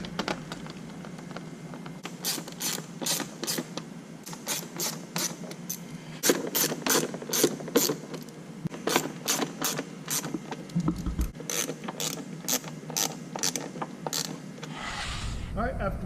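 A ratchet tightening bolts on a Can-Am Spyder panel after a battery replacement, rapid bursts of clicking that repeat close by against a quiet background.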